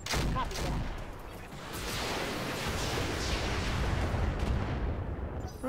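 Dense, continuous barrage of weapon fire in the Roguepoint video game, loud and sustained across the whole stretch, with a faint voice briefly audible near the start.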